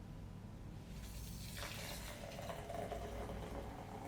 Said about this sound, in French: Moi je vais le verser directement, normalement ça devrait bien se passer.